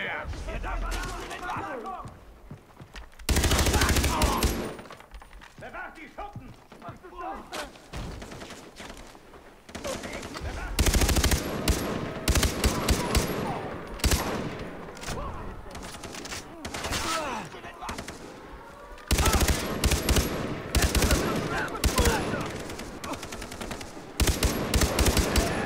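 Rapid bursts of automatic gunfire from the video game Far Cry 3 come in repeated volleys with short gaps, loud and dense over game noise.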